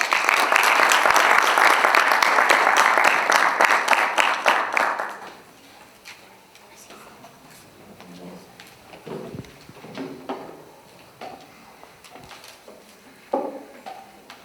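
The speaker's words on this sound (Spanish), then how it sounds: "para quien pido un fortísimo aplauso" Auditorium audience at a book presentation giving loud, sustained applause for about five seconds, then thinning to scattered claps, shuffling and faint murmurs, with a few louder knocks near the end.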